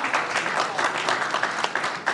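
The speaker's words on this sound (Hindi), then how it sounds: "जोरदार तालियों से अभिनंदन करिए" A stage audience at the News18 India Chaupal event greets Union minister Piyush Goyal with sustained, dense clapping for about two seconds, with no speech over it.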